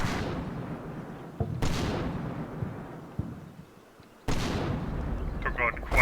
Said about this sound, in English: that sounds like heavy arty being called in